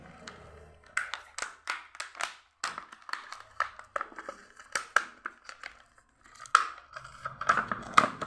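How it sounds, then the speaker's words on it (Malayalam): Hello Kitty stationery packaging being torn and crinkled open by hand in a sharp, irregular series of close rips and rustles, loud and uneven, with brief pauses between bursts. "അപ്പം ഞാൻ ഇതൊക്കെ ഒന്ന് അൺബോക്സ് ചെയ്ത് നോക്കട്ടെ"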